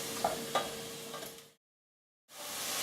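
Vegetables stir-frying in broth in a pan give a steady close sizzle with a couple of soft stirring knocks. The sizzle cuts to silence for a moment and then returns at full strength.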